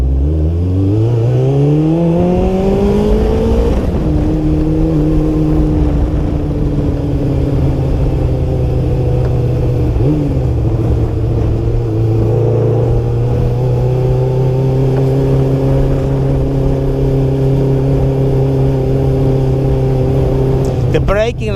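A Kawasaki Ninja GPX600 motorcycle engine revs up with rising pitch, drops back, then holds a loud, steady drone with small swells as it accelerates and decelerates.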